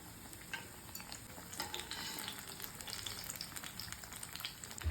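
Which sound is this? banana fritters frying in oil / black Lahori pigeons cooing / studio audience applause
banana fritters frying in oil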